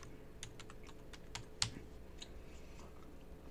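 Brackets are typed on a computer keyboard as a quiet run of light, close keystroke clicks, with one slightly sharper tap in the middle and no talking.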